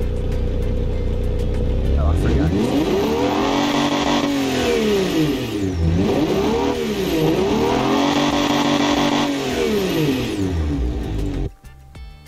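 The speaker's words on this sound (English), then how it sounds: "Alright, you ready to hear the engine?" A custom car engine in BeamNG.drive revs loudly and repeatedly, rising and falling in pitch over several sweeping pulls before cutting off abruptly near the end, with a brief spoken remark over it.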